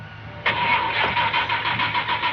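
A car engine cranks and catches with a sudden onset, then settles into a steady mid-pitched idle with slight rhythmic pulsing, close and fairly loud, no voices.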